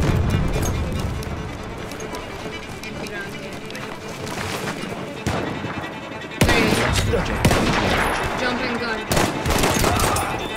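Gunfire in the World War I shooter Battlefield 1, with bursts of shots and broad blasts over continuous battlefield noise, growing louder in the later half, while players talk over it.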